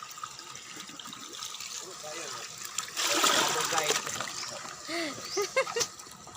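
Water splashes and sloshes in a newly dug well in the ground, with a louder burst of splashing midway, while people talk over it.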